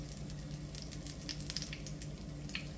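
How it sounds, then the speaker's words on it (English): Green plantains fry in a pot of oil over medium heat, giving a steady, close, continuous sizzle with faint crackles throughout and no voices. "And now I'm gonna fry these plantains again."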